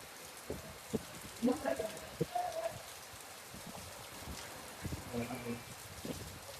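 Rain falls at night in a Gujarati village, a soft steady patter and hiss behind intermittent voices talking nearby, fairly faint overall with a few louder thumps.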